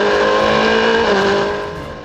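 GB4 race cars accelerating up toward the line at a race restart, a loud, close engine roar that holds steady and then starts to fade as the cars move away.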